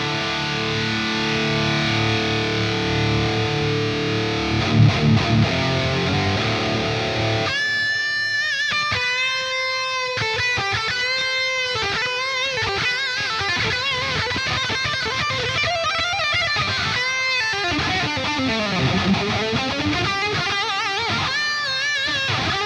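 High-gain electric guitar played through a Fortin Nameless amp model on a Quad Cortex, heavily distorted chugging chords and sustained notes, loud and continuous with no talking.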